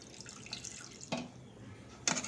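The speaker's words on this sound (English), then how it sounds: "So I am adding little bit of water" Water is poured into a pan of chicken gravy, giving a few short splashy pours and trickles against a quiet kitchen background.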